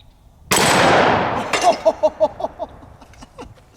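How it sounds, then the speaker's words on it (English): A single loud gunshot from a .500 S&W Magnum snub-nose revolver fired outdoors at a target, a sharp blast followed by a decaying boom and rolling echoes. "Let's shoot the head popper real quick."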